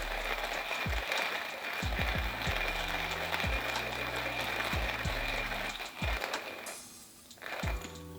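A hand grinder crunches 2.5 scoops of coffee beans in irregular, quiet ratcheting bursts and clicks, heard alone up close.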